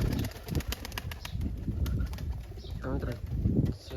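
A pair of Siraji pigeons coo softly in short bursts over a noisy indoor background, with some wing and shuffling sounds and a voice talking faintly.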